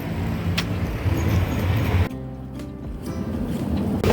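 A car rolls up and stops nearby, a steady engine and road rumble that cuts off partway through, then quieter ambient noise with a faint engine still audible.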